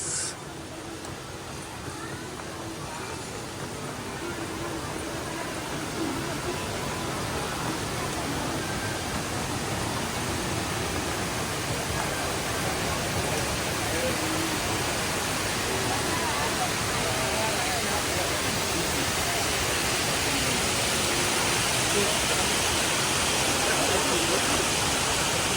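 Steady roaring wash of the Rain Vortex indoor waterfall in Singapore, a dense continuous rush of falling water that swells slightly and holds loud throughout, with faint voices beneath.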